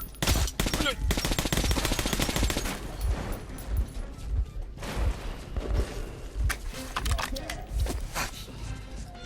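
Automatic gunfire from soldiers being shot in the video game Metro 2033 Redux, dense rapid bursts of shots in a fast rattling rhythm, loud and close, trailing into sparser single shots.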